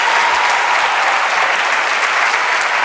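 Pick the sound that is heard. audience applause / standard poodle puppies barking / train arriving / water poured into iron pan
audience applause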